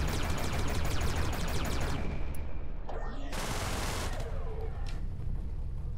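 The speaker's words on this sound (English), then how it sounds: "So I'm shooting an asteroid" Rapid weapon fire from a spaceship blasting an asteroid in the space shooter Everspace, a dense loud burst of shots in the first seconds that gives way to lighter zaps and impacts over a steady engine hum.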